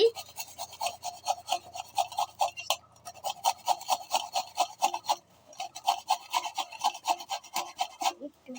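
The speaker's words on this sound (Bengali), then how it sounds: "এখন ধুয়ে নিচ্ছি তো এখন আমগুলোকে এটা দিয়ে এটা দিয়ে ঘষে নিচ্ছি" Cut mangoes scrubbed during washing, a close, rhythmic rasping rub in quick repeated strokes, pausing briefly twice before continuing, with no talk over it.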